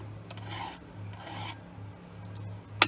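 A hand file rasps against a chainsaw chain in two slow, even strokes, each a gritty scraping pass up close, followed by a sharp metallic tick at the end.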